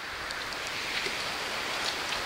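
Steady rain falls on a muddy jungle trail in Nabire, Papua, a soft, even hiss with scattered droplet taps and no voices.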